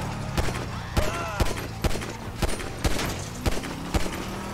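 GTA 5 gunfire sounds as regular loud bursts of shots, about a dozen sharp cracks spaced roughly evenly, over a game engine rumble in the background.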